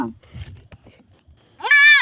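A goat gives one loud, clear bleat near the end, preceded by low handling noises and faint murmurs close by.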